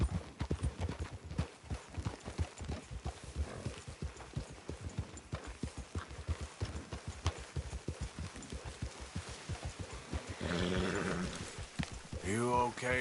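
Horse hooves clip-clop in a steady, even rhythm along a road in Red Dead Redemption 2, followed by a short stretch of talking near the end.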